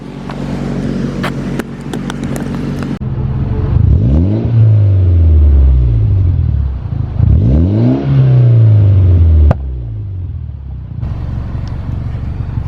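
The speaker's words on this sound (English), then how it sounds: "let's go ahead and get an exhaust clip before it starts raining a lot." A 2008 Mitsubishi Lancer Evolution X exhaust idles, then revs hard twice in sharp rising-and-falling bursts, loud and close, before settling back to a rumbling idle.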